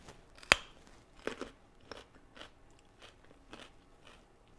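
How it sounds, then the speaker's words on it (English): A carrot stick dipped in creamy homemade hummus is bitten into, giving one sharp close crunch followed by several softer chewing crunches in a quiet room. "gotta grab your handy carrots here, give it a taste."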